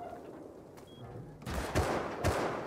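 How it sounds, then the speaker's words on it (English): Gunfire in the survival video game Rust, a few sharp shots and a brief volley after a quieter stretch, moderately loud against low background noise. "They're shooting at me now."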